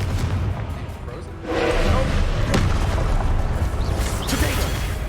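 A Confringo spell explosion in the Hogwarts Legacy video game lands as a booming burst, loud and sudden partway through, over continuous game noise with a player talking.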